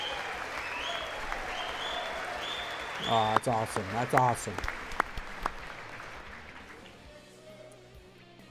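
A crowd at a watch party for Trump's address to Congress applauds throughout, a soft wash of clapping with a few sharper claps, while nearby voices talk excitedly over it before it fades away.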